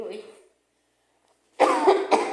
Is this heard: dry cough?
yes